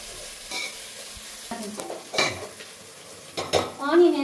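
Onions sautéing in oil in a pan for country-chicken biryani, with a soft sizzle under repeated scraping and clinking of a spatula against the pan in several bursts, close by.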